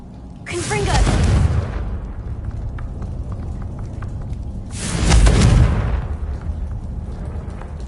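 Confringo fire-spell blasts in the Hogwarts Legacy video game, two deep booming explosions a few seconds apart that roll into a rumbling tail over a steady low game background.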